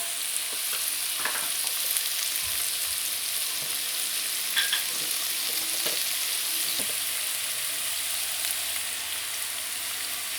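Onion and tomato, with a pinch of salt, sauté in a pan for cauliflower masala. A soft, steady sizzle continues throughout, with occasional faint scrapes and clinks of a spoon stirring.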